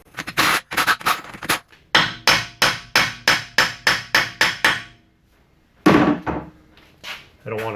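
Repeated hammer strikes on the axle of a 2007-2017 Jeep Compass 4WD 2.4L, a fast run of loud, sharp metallic blows in steady rhythm, a short pause, then a few more heavy hits, close and clear.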